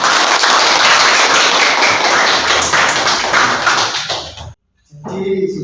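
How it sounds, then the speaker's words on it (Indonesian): Applause from a classroom of students: dense, steady clapping fills several seconds, then stops abruptly before a teacher begins speaking. "Tepuk tangan buat semuanya."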